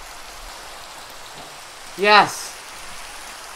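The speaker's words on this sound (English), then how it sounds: "Why does it have to rain?" Steady rain falls in the video game Minecraft, a soft even hiss throughout, briefly broken by a single excited shout from a player.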